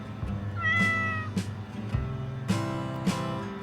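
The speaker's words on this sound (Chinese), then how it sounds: "快走，小猫快走！" A small cat meows a few times in quick succession, fairly close and clear, with short harmonic cries standing out over a low steady background rumble and no talking.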